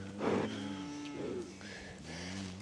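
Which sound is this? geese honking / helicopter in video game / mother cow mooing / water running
mother cow mooing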